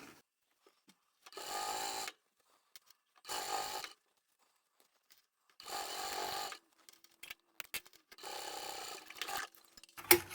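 A sewing machine stitches a zippered pyramid pouch in four separate bursts of fast, close whirring, with quiet handling clicks and rustles between the runs.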